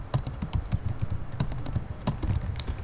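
Fingers type on a computer keyboard, making quick, irregular clicking taps with short pauses between bursts. The keystrokes sound close and clear, and nobody speaks.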